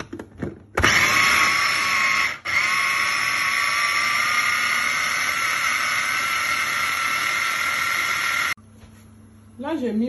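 A blender purées coarsely chopped onion, fresh tomato and tomato paste with a loud, steady motor whine that runs for about eight seconds, then cuts off, followed by a brief voice.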